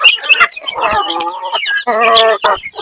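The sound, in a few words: chickens clucking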